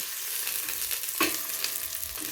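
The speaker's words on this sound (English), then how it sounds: "you just want to saute the onions and garlic just till they're translucent" Onion and garlic sautéing in hot oil in a pan for coconut curry lamb, a steady close sizzle with a brief stirring scrape partway through.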